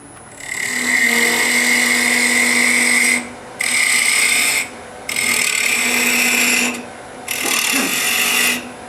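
A wood lathe turning an acorn box as a roughing gouge cuts the spinning blank, loud close whirring scrapes in four long passes separated by brief pauses.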